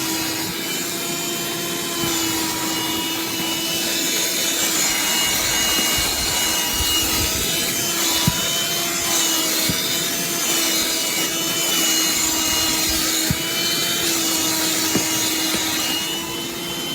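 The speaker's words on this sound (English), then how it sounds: "This is our dustbuster by Black & Decker." A Black+Decker dustbuster cordless handheld vacuum runs steadily at close range, a constant whining motor hum with airy hiss and occasional faint clicks and bumps.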